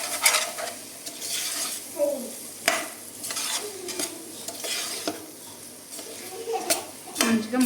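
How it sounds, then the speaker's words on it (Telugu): Paneer biryani masala with chicken masala stir-fried in a pan, giving a steady sizzle broken by scraping spatula strokes and clinks against the pan, with a voice talking intermittently over it. "ఇవన్నీ వేసుకొని ఒకసారి ఫ్రై చేస్తాం."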